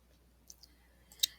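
Soft mouse clicks in the Unity editor, a couple of faint clicks followed by a sharper, louder one near the end, close up in a quiet room.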